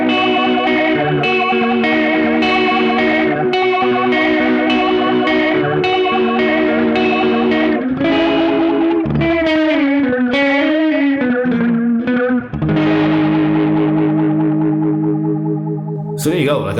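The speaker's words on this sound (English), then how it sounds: "I have now set up a faux rotary sound by putting the delay mix low" An electric guitar played through a single pedal set to a faux rotary effect, low delay mix and blend high, rings out in sustained chords with a swirling, wavering chorus-like shimmer, loud and close, with no talking.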